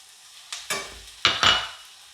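Spices hit a hot pan of crispy fried onions, setting off a few bursts of sizzling and stirring scrapes that flare up and fade within a couple of seconds.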